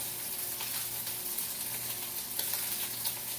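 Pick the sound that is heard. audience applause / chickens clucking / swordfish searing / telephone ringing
swordfish searing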